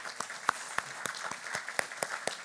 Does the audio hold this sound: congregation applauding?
yes